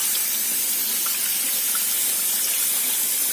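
Tap water from a low-pressure faucet runs steadily over a K&N air filter being rinsed, a loud continuous splashing gush with no talking.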